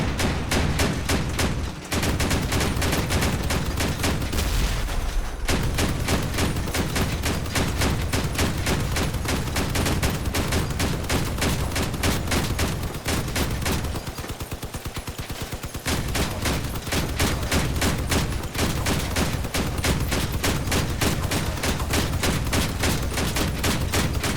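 The Leviathan vehicle's guns fire in the Crossout vehicle combat game, a dense, continuous barrage of rapid gunfire and heavy shots that stays loud almost without pause, briefly thinning near the middle.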